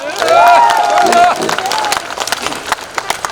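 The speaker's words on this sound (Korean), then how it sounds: "저쪽에 운동 열심히 하시는 분들 위해서 박수 한번 크게 쳐주십시오" Crowd applause at an election campaign rally on market day in Hamyang, near Jirisan: a loud swell of clapping and cheering under a voice, thinning to scattered claps.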